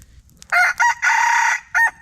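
A rooster crows loud and close, a harsh broken call in several bursts with a final short cry, over a quiet background with no talk.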